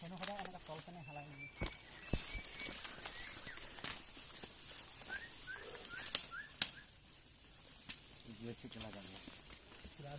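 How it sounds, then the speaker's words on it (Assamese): A bird in a forest in West Karbi Anglong, Assam, gives a few short rising calls during a trek. The calls are moderately faint, mixed with footsteps, rustling and people talking. "সেইটো চৰাই ওলাইছে মা।"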